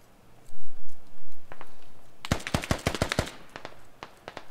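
Gunfire in the military shooter game Squad, a quick string of roughly a dozen sharp rifle shots fired in rapid succession after a few muffled thumps, loud and close over quiet battlefield ambience.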